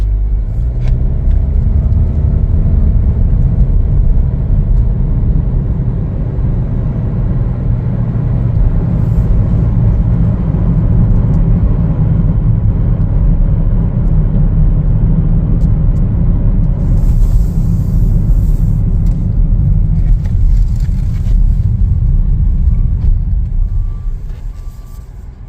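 A 2025 Chevrolet Trailblazer LT on a road test drive, heard from inside the cabin as a steady low engine and road rumble that holds for a long stretch, then eases off near the end as the car slows.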